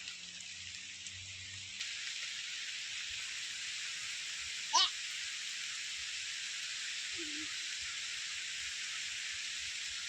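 Steady rain falls in the open near a tree, a constant hiss from start to finish with a brief louder spot near the middle and no voices.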